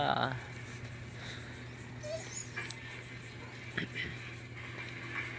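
A dog named Chichay, tied up and needing to pee, gives faint high whimpers and a short yip amid background noise, with people talking nearby.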